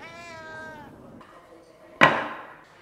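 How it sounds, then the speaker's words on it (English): A cat meows once in a drawn-out, rising-falling cry, followed by a sharp sudden noise nearby; fairly close and clear. "Oh, there's another cat."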